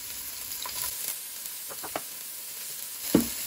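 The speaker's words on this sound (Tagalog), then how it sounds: "Same pan, igisa natin ang sibuyas, bawang at luya." Onion, garlic and ginger sautéing in a pan, a steady soft sizzle with a few faint stirring scrapes and one sharper clack near the end, close by.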